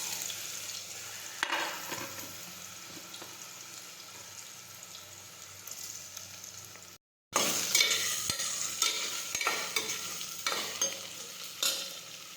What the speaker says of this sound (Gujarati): હવે આપણે તુરિયા અને બટેટા નાખીશું